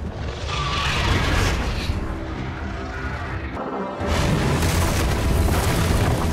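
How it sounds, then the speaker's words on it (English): Dragon attack with explosions from Game of Thrones, heard as loud, sustained booming and crashing rumble, dipping briefly before surging again into a heavy roar of blasts. "Is that where Drogon's coming down from? Right out of the sun? Yep. Here he comes. Coming right at him"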